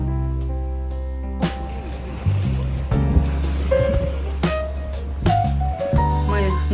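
Sea waves wash steadily onto the shore at a beach in Alanya, in a continuous rushing surge, with a low steady hum running underneath.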